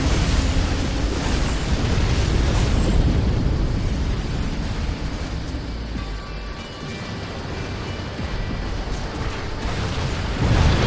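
A MAC cannon strike from orbit hitting a group of tanks in the real-time strategy game Halo Wars: a sustained roaring, rumbling blast that swells and then slowly subsides, with a second surge at the end and no voices.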